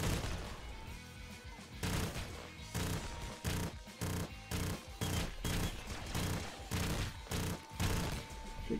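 Rapid video game gunfire from Nuclear Throne crackles in dense, irregular bursts with thumping impacts, continuous and fairly close throughout.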